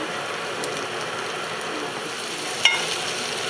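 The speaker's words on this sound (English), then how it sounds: "Stir it a few times." Vegan curry goat sizzles steadily in a frying pan as it is stirred, a soft continuous hiss broken by a single sharp clack of the spoon near the end.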